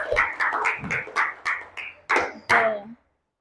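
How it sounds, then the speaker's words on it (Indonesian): Classroom students clap together as a group, a series of quick, loud, rhythmic bursts of claps lasting a few seconds before they stop abruptly. "Oke, tepuk tangan untuk kalian semua."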